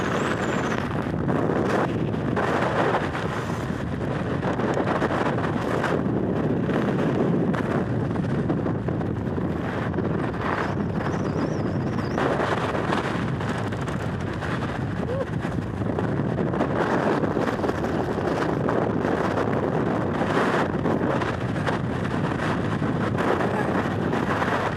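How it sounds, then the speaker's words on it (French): Strong wind on Madeira buffets the microphone in a constant loud roar with heavy low rumble, unbroken for the whole stretch and drowning out everything else. "Il y a tellement de vent."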